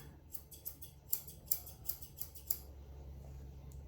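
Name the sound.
scissors trimming a schnauzer's hair beside the eye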